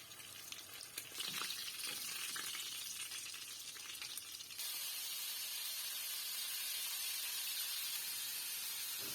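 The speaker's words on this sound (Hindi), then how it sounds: "मीडियम टू लो हीट पे मैं इसको फ्राई करूँगी" Beef seekh kababs sizzle in a frying pan over medium-to-low heat, a steady close hiss with faint crackles and occasional stirring clinks.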